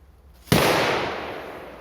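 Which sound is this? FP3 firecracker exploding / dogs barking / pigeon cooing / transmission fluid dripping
FP3 firecracker exploding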